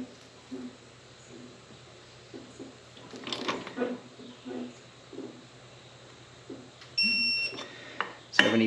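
Torque wrench emitting a short high electronic beep while torquing the wheel lug nuts on a Hustler Raptor SD mower, heard near the end over a low background hum and faint knocks.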